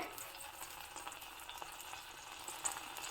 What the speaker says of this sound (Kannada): ಒಂದು ಪ್ಯಾನ್ ತೊಗೊಂಡಿದ್ದೀನಿ ಅದಕ್ಕೆ ಎಣ್ಣೆಯನ್ನು ಹಾಕ್ತಾ ಇದ್ದೀನಿ ಎಣ್ಣೆ ಕರೆಕ್ಟಾಗಿ ಇದ್ದಾಗೆ ಉದ್ದಿನಬೇಳೆ